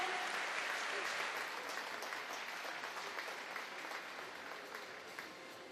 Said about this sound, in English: huge round of applause for Kathleen Dawson